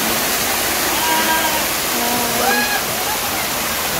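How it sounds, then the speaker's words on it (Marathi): Malangad waterfall near Kalyan pours with a steady, close, full-bodied roar of rushing water that holds at an even loudness throughout, with faint voices or calls drifting through it. "बाकी मस्त आहे इकडे धबधबा."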